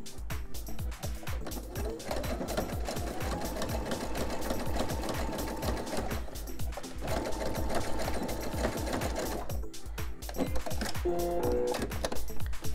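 A sewing machine zigzag-stitches along the edges of an oven mitt, a steady rapid clatter of the needle running continuously with a brief pause partway through and close, even loudness.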